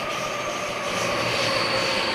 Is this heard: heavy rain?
no